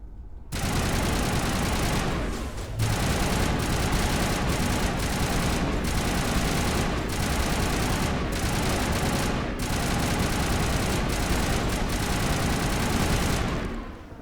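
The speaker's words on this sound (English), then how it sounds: "These guns get quite loud." Loud, sustained automatic gunfire from weapons in the video game Mass Effect Legendary Edition, rapid bursts broken by short pauses and filling the whole stretch with dense, harsh shots.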